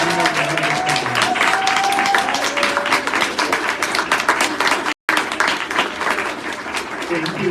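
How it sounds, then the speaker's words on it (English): An audience at a literary journal issue-release reading applauds the readers with loud, sustained clapping. A brief silent gap interrupts it before the applause resumes. Voices and a few cheers mix into the clapping. "Can we give our readers one more round of applause?"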